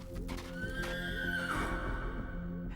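A startled horse lets out one long, loud whinny that rises and then trails off, with faint hoof clatter beneath it, close by and with no talking.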